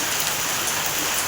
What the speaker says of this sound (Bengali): প্রচণ্ড বৃষ্টি, ঝমঝম করে বৃষ্টি হচ্ছে।